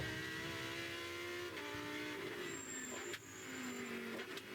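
Three Porsche race cars pass each other on a track's front straight, their engines a loud, continuous drone with shifting pitch as they go by, with no voices over it.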